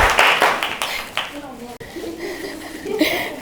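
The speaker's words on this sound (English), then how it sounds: "Can you clap for her?" An audience claps for a student presenter in a bright burst of applause that fades within a couple of seconds. Light chuckles and murmurs follow.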